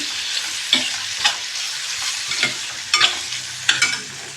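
Vegetables and sweet corn tossed in a hot pan, with a steady sizzle under repeated scraping strikes of a spoon roughly every half second to second, close and moderately loud, no talking.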